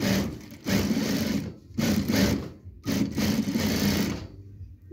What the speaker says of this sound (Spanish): giramos la tela y vamos a coser a unos 8 milímetros de distancia.